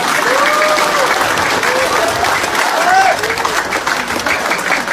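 Steady audience clapping at a seminar-style gathering, continuous and fairly loud, with scattered whoops and voices rising through it.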